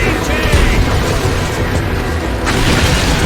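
Weapon fire striking a target in the video game Earth Defense Force 5, a dense, continuous rumble of booms and bursts with a fresh blast near the end.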